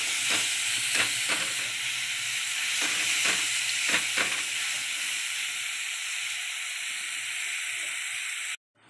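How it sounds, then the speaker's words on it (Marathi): Raw mango pieces cooking in a covered pan, a steady soft sizzle and hiss with a few light stirring knocks early on, continuous until it cuts off abruptly. "आता ह्या कैरीच्या फोडी 5 मिनिटं वाफेवर शिजू द्यायचे आहे।"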